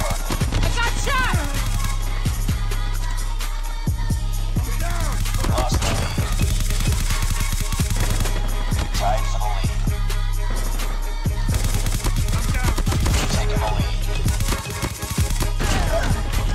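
Gunfire in the mobile shooter Call of Duty Mobile, a steady loud barrage of sharp shots and bursts over a constant droning background, close and dense throughout, with occasional voices in the mix.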